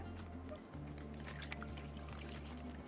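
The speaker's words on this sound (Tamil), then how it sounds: "நான் 1/2 லிட்டர் பால் இதில் சேர்த்துக்கிறேன்." Milk pours steadily into a pot, faint and continuous, with a low tonal hum underneath.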